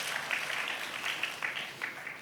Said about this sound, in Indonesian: Semua yang setuju berikan tepuk tangan yang paling meriah untuk dia.